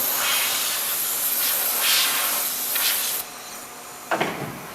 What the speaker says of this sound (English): I like to spray off the powder on the backs of the panels